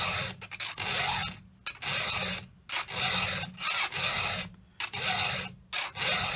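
A chainsaw chain being sharpened by hand with a round file, a quick rhythmic rasp of metal strokes, each lasting about half a second and separated by short silent gaps, close and fairly loud.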